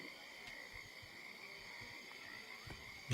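Frog croaking sound effect in an online role-playing game session: faint, steady high-pitched trilling croaks under low background noise, with no one talking.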